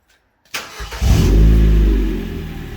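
A car engine turns over and catches, then runs with a loud, steady low rumble from the exhaust that slowly eases off.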